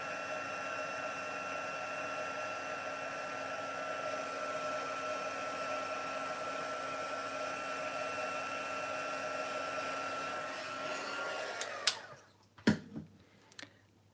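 An electric heat tool melts embossing powder for a Halloween treat box, blowing a steady, loud whirring roar for about twelve seconds before switching off, followed by a few soft clicks and taps.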